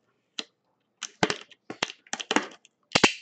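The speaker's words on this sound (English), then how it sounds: "Popping of the seal." A factory seal popping and the plastic wrap tearing on a box of NFL football trading cards: a series of close, crisp crackling bursts with short gaps between them, and no talking.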